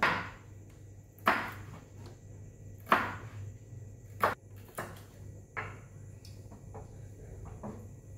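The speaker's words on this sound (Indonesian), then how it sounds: "Beberapa bawang merah ini saya potong kecil-kecil secukupnya." Shallots are chopped into small pieces with a knife, making several sharp, separate cuts with uneven pauses between them against a quiet room background.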